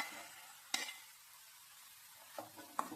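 Chickpea sundal stirred and tossed in a pan, with quiet frying sizzle and three sharp spoon scrapes against the pan over about three seconds.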